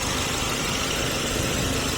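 A 2017 Suzuki Ciaz 1.2 GLX eco car idles at a steady, even hum with a low vibrating rumble, close and continuous, with no voices.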